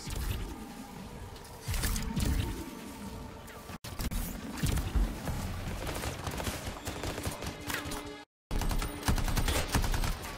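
Rapid gunfire from the video game Anthem crackles in dense, sustained bursts, loud and close, with brief drops and a short silent gap between volleys.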